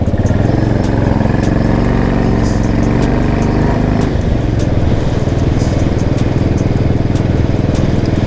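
A motorcycle engine roars loud and close as the bike is pushed hard up a hill, its throbbing exhaust note steady and then shifting to a lower, pulsing beat, with wind buffeting over it.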